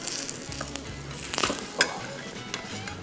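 Paneer paratha frying in plenty of ghee in a pan, a close, continuous sizzle with occasional sharper crackles and light spatula scrapes.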